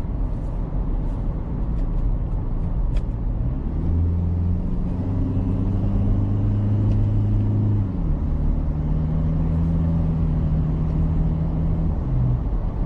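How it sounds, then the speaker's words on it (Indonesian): A Toyota Fortuner TRD Sportivo 2019 drives steadily while its paddle shifts are tested, with a constant close engine drone and hum that steps up and down in pitch at each gear change, never broken by talk. "Sekarang kita tes ya pedal shift mobil ini."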